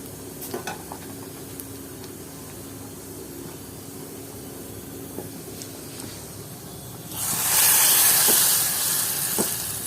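A thin hot tempering is poured into cooked lentil dal, bursting into a loud hissing sizzle after a stretch of quiet kitchen background.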